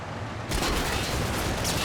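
Machine gun fire in Combat Mission: Battle for Normandy erupts suddenly and keeps roaring as a dense, continuous burst of loud rattling noise.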